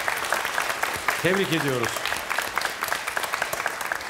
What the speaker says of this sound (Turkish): yürekten bir alkış istiyorum sizlerden